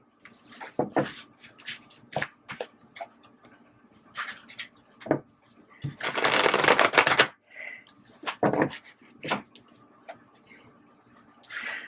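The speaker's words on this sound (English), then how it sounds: "I'm going to give you an extra shuffle." Tarot cards being shuffled by hand in quick riffles and taps, with a longer flurry midway; close and clear, no voices.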